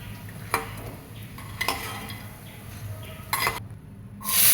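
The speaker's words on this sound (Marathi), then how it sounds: "नंतर आपण एका कढईमध्ये थोडंसं तेल गरम करून सांडगे चांगले लालसर होईपर्यंत भाजून घेऊ." Sandge fry in oil in a kadhai with a steady low sizzle, while a spatula stirs and scrapes in several short, sharp strokes, close by, and a faint metallic clink comes near the end.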